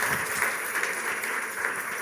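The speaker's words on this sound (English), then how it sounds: "Round of applause," Sustained applause from a summit audience after an interactive group performance session, a dense, steady wash of many hands clapping at close range with no voices over it.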